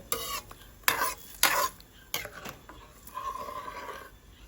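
Pad thai sauce bubbles and sizzles in a pan as a spatula stirs it in several sharp scraping bursts, with a softer simmering hiss between strokes and no talking.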